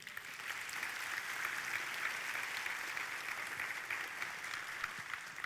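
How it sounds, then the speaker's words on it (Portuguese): A church congregation applauds during a worship service, a steady, even wash of many hands clapping that holds at a fairly soft, distant level for the whole stretch with no voices rising above it. "vamos aplaudir ao Senhor."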